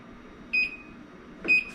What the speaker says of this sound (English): we're going to set our timer, cooking time